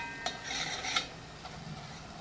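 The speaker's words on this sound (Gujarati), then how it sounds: "એકદમ સાતળવાનું છે આને." Spices sautéed in a pan for green bhaji, with a few metal spoon scrapes and clinks against the pan over a faint background sizzle, close and moderately loud.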